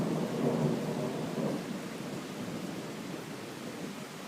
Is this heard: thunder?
yes